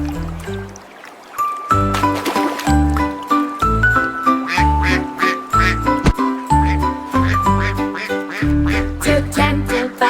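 Ducks quack repeatedly in a French children's song over a busy musical backing with tinkling, chime-like notes, the calls bright and close.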